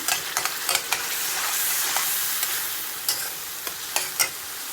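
Dal being tempered with spices in hot oil, a loud, continuous sizzle broken by sharp spoon scrapes and clinks against the pan at irregular intervals, with no voices.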